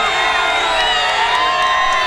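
A big crowd at the 1993 Chicago Bulls victory rally in Grant Park cheers and whoops loudly and without a break, a dense wall of voices that fills the whole stretch.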